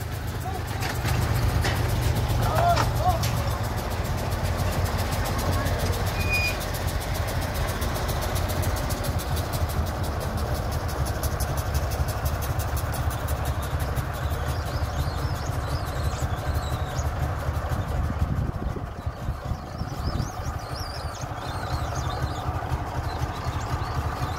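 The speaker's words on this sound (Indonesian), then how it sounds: "Ada lokomotif D9 melangsir lori abu." A D9 locomotive shunting ash wagons on a rail line, a steady low engine idle and rumble running throughout with faint knocking, while people talk over it.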